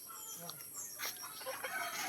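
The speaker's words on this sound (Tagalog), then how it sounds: "Hindi na pala nakakulong yung manok niya." Chickens cluck faintly in the background, scattered short calls over a steady outdoor hiss, with a few brief murmurs of people nearby.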